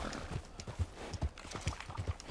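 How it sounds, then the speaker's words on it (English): A small donkey trots in Red Dead Redemption 2, its hooves clip-clopping in an irregular rhythm of close, moderately loud thuds, with no voices over them. "Little donkey can run."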